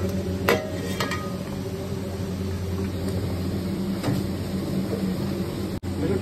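Ginger garlic paste fries with browned onions in a pan for a mutton keema kaleji, giving a steady sizzle with a few sharp clinks of a utensil against the pan.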